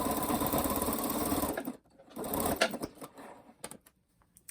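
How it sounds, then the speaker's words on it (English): A sewing machine runs a short zigzag stitch through thick layered fleece on a slipper, a loud steady mechanical whir for about a second and a half. A second brief burst follows, then scattered clicks and handling noises. "I may actually do that on my sewing machine just to be sure I get through all the layers and do a little zigzag"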